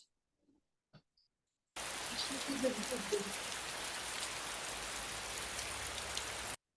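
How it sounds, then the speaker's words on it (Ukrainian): Steady rain pours down, a dense, even hiss that begins suddenly after a few faint taps and continues without letup. "Молодці, це дощ."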